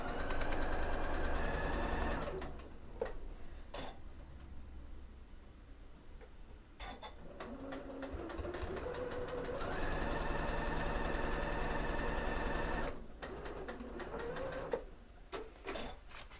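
A sewing machine stitches a seam in rapid motor-driven bursts that pause and restart, with small ticking clicks between runs.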